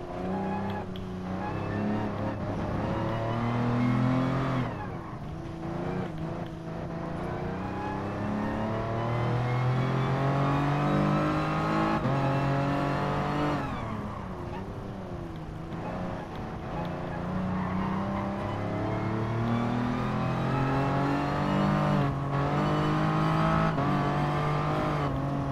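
A safety car in Gran Turismo Sport drives a lap of the circuit at night, its engine droning steadily and rising and falling through gear changes and acceleration, loud and continuous throughout.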